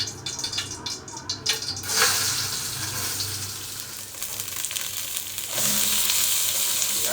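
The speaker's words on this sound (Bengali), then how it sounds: "তেল দিয়ে দিয়েছি, ঘি দিয়ে দিচ্ছি, এবার একটু চালটা দিয়ে দিচ্ছি।" Rice frying in a mix of ghee and white oil for pulao, a steady close sizzle that swells sharply around the two-second mark and again near the end, with faint stirring and scraping underneath and no talk.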